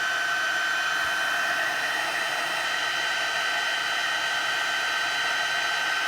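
Heat tool blowing hot air to melt embossing powder for heat embossing, a steady loud whooshing hiss with constant motor whine, uninterrupted and close.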